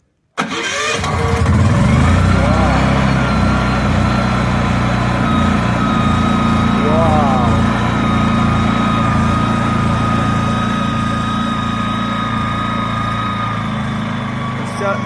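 A small inverter generator engine is started up close and then runs loudly and steadily, settling into an even mechanical drone with a constant hum for the rest of the span.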